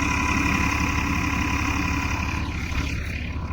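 A tractor engine idles steadily close by, a constant low rumble with a throbbing pulse and faint vibration, holding an even level throughout with no voices.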